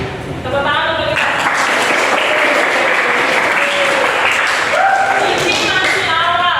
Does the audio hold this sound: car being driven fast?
no